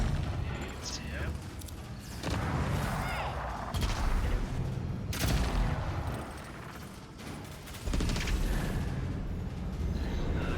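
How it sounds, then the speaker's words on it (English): A fireball spell cast in the fantasy game Avowed sets off rumbling blasts and booming explosions that roll continuously, layered with heavy impact crashes. "Fireball."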